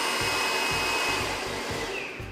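A Babyliss hair dryer runs on its high setting with a steady, loud airy whoosh and motor whine, close up and continuous, a faint rhythmic thumping underneath.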